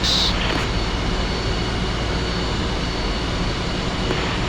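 Twin jet engines of an F-5E in the DCS flight simulator roar in a loud, steady whine and rumble, sustained throughout without pause.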